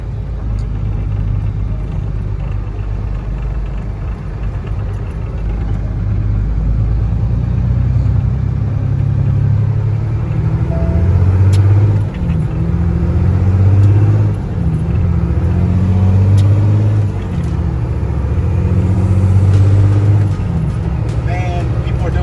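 Cars do burnouts along an entry road at the Summernats USA car show, making a loud, continuous low engine rumble with repeated revving surges, mixed with crowd noise and nearby voices.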